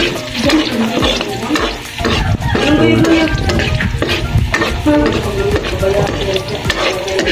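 Squid for adobong pusit fries in a pan, a loud, dense, continuous sizzle with frequent stirring and scraping, close to the listener.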